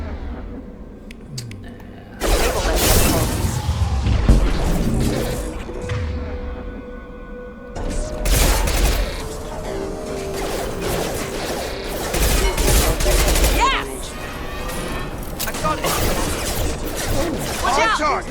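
Combat gunfire in the video game Mass Effect 2: heavy bursts of weapon fire, crashes and impacts come and go over a rumbling battle background, with voices shouting between volleys.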